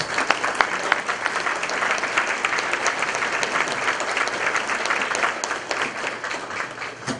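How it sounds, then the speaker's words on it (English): Guests at a community luncheon applaud steadily, a room full of dense clapping that holds at an even level for the whole stretch. "let's give him a special applause."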